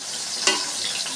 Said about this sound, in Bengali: মাছগুলো দিয়ে দেবো একটা করে।